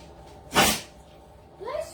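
A single sharp sneeze bursts out, loud and close, followed by a brief murmur of voice.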